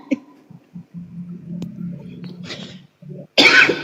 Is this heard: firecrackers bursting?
no